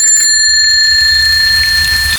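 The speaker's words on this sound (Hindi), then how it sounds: "और तभी बाहर से फिर वही साइकिल की घंटी सुनाई देती है" A bicycle bell rings with a bright, sustained metallic tone that hangs and slowly fades over a low background rumble, heard alone and fairly close.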